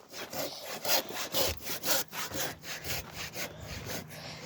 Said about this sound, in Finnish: nyt mun kaveri sahaa